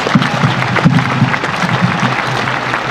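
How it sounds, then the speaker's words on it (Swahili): An audience applauds a talented young girl at an Akurinu gathering in Nakuru County, with steady clapping mixed with voices throughout. "Tuhurira mwana ucio makofi."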